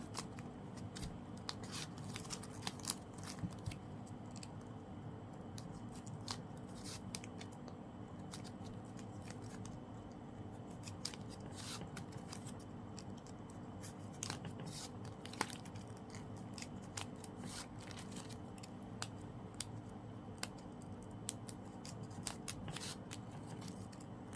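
Scissors snip off the loose end of a ribbon used to fold a flower-shaped coin garland for a Thai merit-making scattering, giving repeated faint, crisp clicks and cuts over a steady low background hum with no talking.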